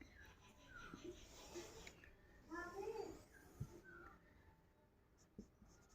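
Faint scratching of a pen writing on paper during a worked math problem, soft and close, with quiet speech in the background.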